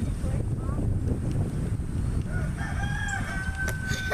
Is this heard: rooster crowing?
yes